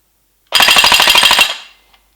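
A Taidi Toys LK58 FAL gel blaster rips off one short full-auto burst, a rapid buzzing rattle lasting about a second before fading, loud and close with nobody speaking.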